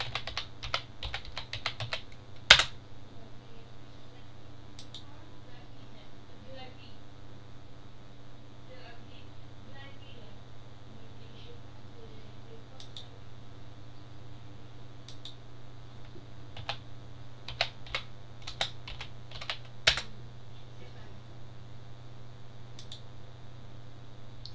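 Sporadic typing on a computer keyboard while a web proxy is being tested, with scattered clusters of key clicks and a sharp louder tap, all over a steady low electrical hum.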